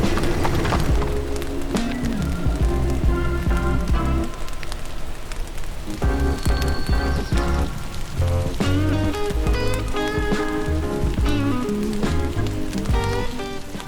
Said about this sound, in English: The rain would exponentially increase as the day went on.